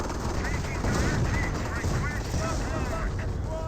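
Machine gun fire and gunfire in a Company of Heroes World War II battle, dense continuous bursts and explosions with overlapping game audio, while a commentator talks throughout.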